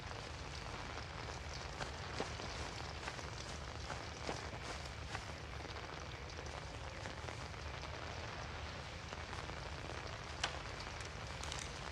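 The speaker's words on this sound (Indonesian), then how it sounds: "Hujan lebat." Heavy rain in a horror video game pours steadily in a broad hiss, with scattered drips and taps on surfaces, continuous and fairly loud throughout, no voices.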